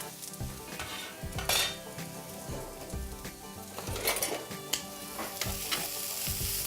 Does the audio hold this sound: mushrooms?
yes